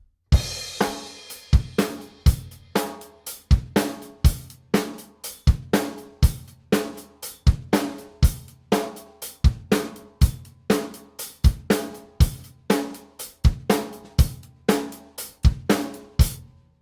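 Rock drum groove in the style of a classic rock song verse: a steady, punchy kick-snare pattern with cymbals, repeating evenly and loudly for the full stretch with no talking.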